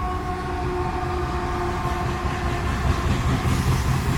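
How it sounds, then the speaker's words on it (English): A train rolls past on busy railroad tracks beside a campsite, a loud close rumble with steady rail clatter and a faint horn tone running through it. "These trains go by so often"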